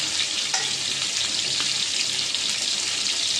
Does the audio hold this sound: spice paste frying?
yes